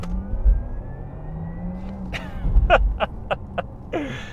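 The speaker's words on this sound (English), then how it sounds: "it turns on the Porsche electric sound, which is an engineered noise which takes a totally silent driving experience" A 2021 Porsche Taycan 4S electric car accelerates in Sport Plus mode, its engineered electric drive sound rising in a smooth, gradually climbing synthetic hum over quiet road noise, with a few brief sharp clicks near the end.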